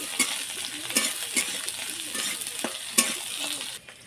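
Chopped onions with whole cumin frying in hot oil, a soft continuous sizzle broken by regular scraping stirs and light clinks of a spatula on the pan, close and fairly quiet, fading at the end.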